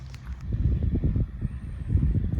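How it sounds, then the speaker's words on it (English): A bulldozer smoothing beach sand, heard as a steady low engine rumble with rhythmic pulsing, moderately close, outdoors with no talking. "Bulldozer smoothing out the beach sand."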